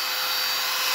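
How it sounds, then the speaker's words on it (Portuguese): Steady broadband blower rush on a freshly restored piece, loud and unbroken throughout, with no other sounds. "Vou passar o soprador mais um pouco"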